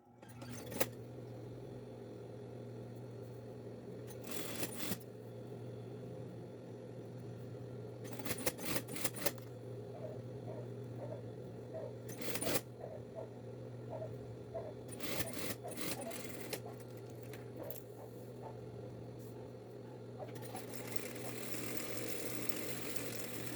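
Sewing machine stitching strips folded into trouser belt loops, steady motor hum with several short bursts of stitching separated by pauses, fairly faint.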